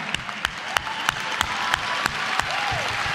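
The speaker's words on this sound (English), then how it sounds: "What are you clapping for?" A church congregation applauds, steady close clapping with a few sharp individual claps standing out over a murmuring crowd.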